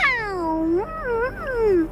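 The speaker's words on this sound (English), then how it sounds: "let out a soft, deliberate meow right at me." A cat lets out a soft, deliberate meow, a single drawn-out call that rises then wavers and falls, close and clear with no talking.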